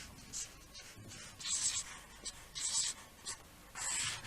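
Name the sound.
drawing roughly on cardboard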